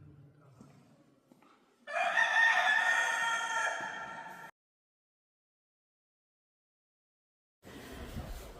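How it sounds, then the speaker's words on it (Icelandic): A rooster crows once, a loud drawn-out call lasting a couple of seconds, followed by silence and then a brief burst of other farmyard noise. "Haninn galar eins og kirkjuklukkur hringja."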